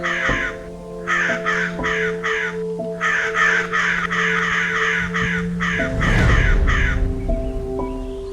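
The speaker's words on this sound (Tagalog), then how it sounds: "Pero tuwing lalapit si Waray sa mga kauri niyang uwak" Crows caw in repeated short bursts of harsh calls, fairly loud and close, over a steady tonal backdrop, with a low rumble near the end.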